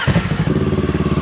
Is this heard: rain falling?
no